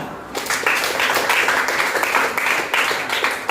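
Classroom applause breaks out from a group of students after an anthropology lesson answer, brisk and continuous at moderate loudness, with no talking over it.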